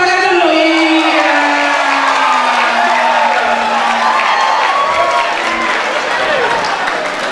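Seminar audience at an international cyber campus workshop in North Sumatra clapping and cheering, a dense sustained wash of applause with whoops and a voice carrying over it throughout.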